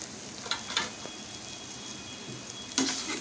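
Potato stuffing is stirred and mixed in a pan, heard as a soft background sizzle broken by a few faint scraping taps of the spoon.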